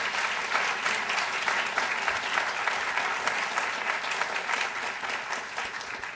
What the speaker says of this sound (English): So just a round of applause, if you would.